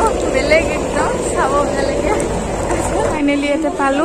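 Steady rumbling inside a moving train arriving at a station, a loud continuous roar and rattle underneath close talking.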